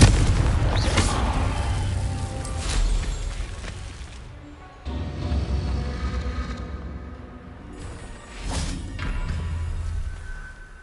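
Deep, booming blasts from a Confringo fire spell in Hogwarts Legacy roll out loud and sustained, with a fresh explosion hitting around the midpoint and another heavy burst near the end, no talk over them.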